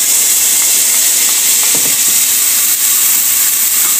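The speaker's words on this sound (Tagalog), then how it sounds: "Gigisa na natin ating sibuyas." Sliced onions sautéing in hot olive oil and butter give a loud, constant hiss close up, with a few faint clinks partway through.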